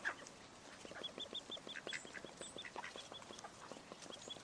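Ducks being fed torn pieces of bread, several birds quacking in quick, repeated bursts with fainter chirps and calls overlapping, moderately near and continuous.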